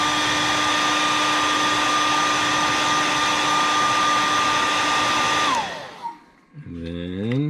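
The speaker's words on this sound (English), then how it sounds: "I'm gonna hit this with a hairdryer." A hair dryer blows steadily and loudly on a freshly painted fishing lure, a constant whine with a held tone, then switches off and spins down around five and a half seconds, followed by brief clatter.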